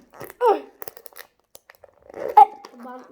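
Tape-sealed box being torn open by hand during a casual unboxing: a few short, crisp ripping bursts close by, mixed with people talking.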